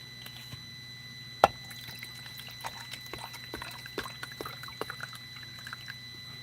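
Water poured into a machine makes faint, quiet trickles and scattered drips over a low background hum, with one sharper splash early on.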